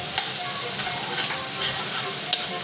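Tomato sizzling and frying in a little oil for a chicken curry, a steady close crackle with soft stirring scrapes throughout and no talking.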